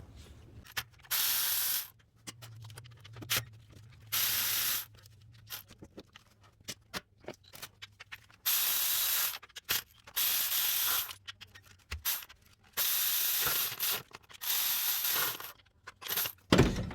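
A ratchet with an 8 mm hex bit backs out bolts on the intake of a 2005-2015 Toyota Tacoma 4.0L V6, giving repeated bursts of rapid clicking separated by short pauses, close and loud.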